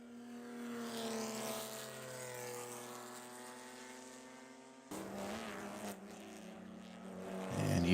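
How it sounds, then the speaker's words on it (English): Porsche race car engines drone in a sustained, rising whine as cars pass on a flying lap at Buttonwillow, one fading before another swells in; a commentator's voice faintly mixed underneath. "now cars are on their flying lap as the green flag is underway"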